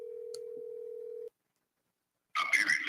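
A telephone rings with one steady electronic tone lasting just over a second, followed by a second of silence and then a burst of muffled noise.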